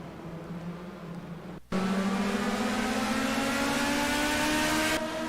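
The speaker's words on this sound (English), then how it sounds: "I have Formula 1 cars." Formula 1 race cars in a video game, a loud sustained engine whine holding a steady pitch and climbing slowly, following a short burst of quieter engine noise and a sudden cut.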